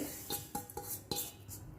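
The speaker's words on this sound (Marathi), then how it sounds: "ह्यामध्ये आपण हे आता तीळ घालून घेऊया" Polished sesame seeds tipped into a hot kadai, with a few sharp metallic clinks and light scraping scattered across a quiet kitchen background.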